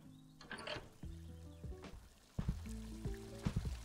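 Water pouring and trickling as a pool fills in the Pool Cleaning Simulator video game, quiet and liquid with gurgling, bubbly tones and a steady flow that swells briefly partway through.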